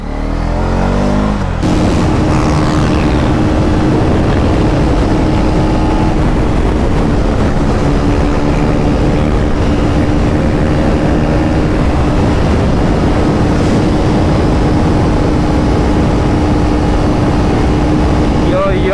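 A 2024 KTM Duke 250 motorcycle, a 250cc bike, is ridden on the road with a loud, steady engine drone and heavy wind rush, the engine note holding near constant after a brief shift early on.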